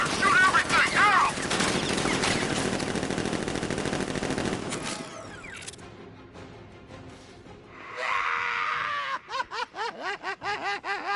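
Machine gun fire in the video game Batman: Arkham Knight, a dense run of rapid bursts, loud at first and then fading, followed by chirpy game effects, with a voice heard partway through.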